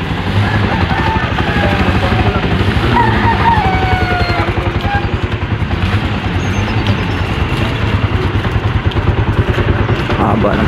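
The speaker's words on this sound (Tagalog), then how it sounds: "Haba ng pila ng mga tricycle oh." A long queue of motorcycle tricycles idling on a dark early-morning shortcut road toward Caloocan, engines chugging in a loud steady rhythmic drone close by, with faint street noise layered over the running motors.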